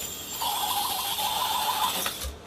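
An SCX24 RC crawler fitted with a big block PN90 motor runs with a steady, close mechanical whir and whine that holds level for about two seconds before cutting off.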